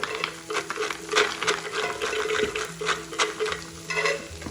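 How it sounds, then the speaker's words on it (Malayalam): Chopped onions cook in butter in a pan for a capsicum rice dish, giving a soft sizzle under repeated scraping and stirring strokes of a utensil, close and moderately quiet. "സവോളയൊക്കെ നന്നായിട്ട് മുരിഞ്ഞ് വന്നിട്ടുണ്ട് സ്വല്പം ബട്ടർ കൂടി ഞാൻ ചേർത്തിട്ടുണ്ട് ഇതിലേക്ക്"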